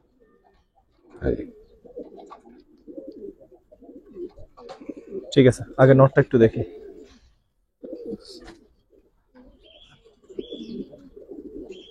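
Pigeons, including a large male of a fancy breed, coo in low bursts between stretches of talk, with a louder close flurry of flapping or handling noise in the middle.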